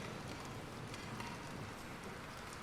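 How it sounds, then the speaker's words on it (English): Rain falling in the Bendy and the Dark Revival video game, a steady, soft hiss of rainfall with faint scattered patter throughout, quiet and without any talking. "It's raining outside. Nice rainy day."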